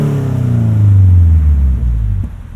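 A Subaru BRZ fitted with a header is revved up close, its loud engine note climbing and holding in a rising growl before dropping off near the end, no talking.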